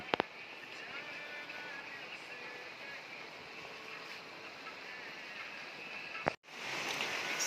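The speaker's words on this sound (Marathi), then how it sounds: "रात्री 2 वाजता पण पाऊस जोरदार चालू आहे" Heavy rain pouring at night, a dense, continuous hiss that stays steady and loud throughout, with a brief click near the start and a sudden cut-out before it resumes.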